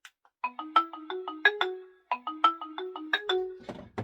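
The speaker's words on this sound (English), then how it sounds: "This is one of those Link doorbells." A Honeywell mains-powered doorbell chime plays a bright, ringtone-like melody of stepped tones twice in a row, clear and close, with a short pause between the phrases.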